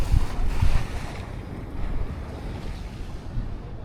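Sea waves and gusty wind along a seaside boulevard in the Philippines, a steady rushing roar of surf and wind buffeting the microphone, with no voices.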